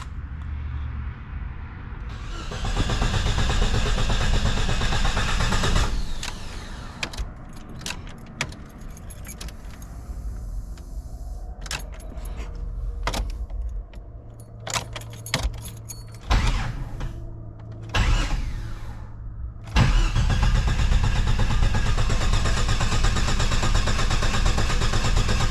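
A car engine cranks and fires up after a repair in a garage, then runs loud and steady with a brief dip and revving bursts before settling back to a strong, continuous idle.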